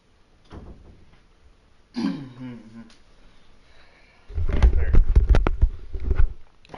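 A person clears their throat and coughs a few times, a short harsh burst near the start followed by a louder, rougher stretch of throat clearing close to the microphone.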